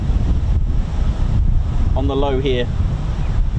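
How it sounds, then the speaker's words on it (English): Gusty wind buffets an outdoor microphone with a constant low, rumbling roar, while someone speaks briefly over it. "Windy."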